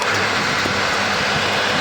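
An electric motor for a hay cutter runs loudly and steadily, with a broad rushing roar and a low hum throughout, alone without talk.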